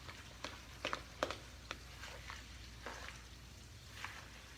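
Coleslaw mixed with sugar and mayonnaise is stirred in a bowl, giving faint, scattered wet clicks and scrapes at an irregular pace, quiet and close with no speech.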